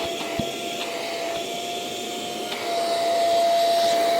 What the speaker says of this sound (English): there's the vacuum part